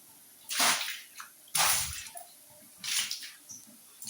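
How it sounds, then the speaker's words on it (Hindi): Water splashes across a kitchen floor being washed, three loud sloshing bursts spaced about a second apart, with quieter trickles and drips between them, close by. "और अब मैं किचन की सफाई करती हूँ। नीचे सारा फर्श धो लूँगी"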